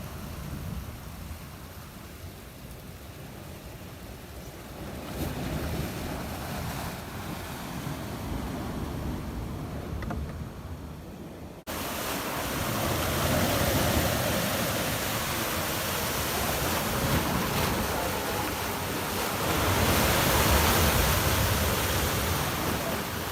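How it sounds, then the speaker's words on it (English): Rough sea water surges and washes around a boat out on the open sea, a steady loud roar of surf and spray that grows heavier and louder partway through, with no talking. "So guys, the water really rough."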